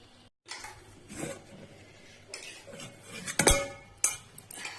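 Spiced masale bhaat rice served from a cooking pot with metal utensils: close, intermittent scrapes, taps and clinks of a spoon against the pot, with one sharp metallic knock partway through.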